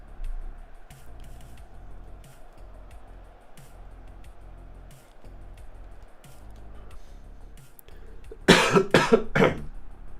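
A person with a cold coughs in a quick burst of three or four loud, close coughs near the end, after a long stretch of faint background noise.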